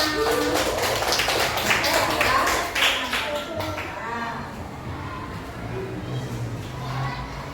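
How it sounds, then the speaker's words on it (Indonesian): Students in a classroom applaud one another, a burst of dense, fairly close clapping for the first few seconds that thins out and fades, with children's voices and room noise continuing underneath. "Sip, tepuk tangan untuk semuanya"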